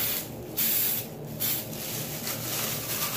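A spray paint can sprays in several short hissing bursts close up, used on a DIY phone grip project, with faint background noise between the bursts.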